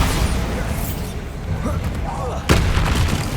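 A Bombarda spell blast in Hogwarts Legacy, with a sharp booming impact hitting partway through over a busy layer of game effects and rumble, loud and close.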